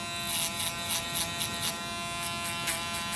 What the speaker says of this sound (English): And then with the shaver, you can also tap down a little bit to make sure you get that transition totally smooth.